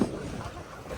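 Wind rushing past during a boat ride near Kodaikanal with rain clouds gathering, a steady broadband roar of buffeting air and water noise filling the whole moment, close and constant.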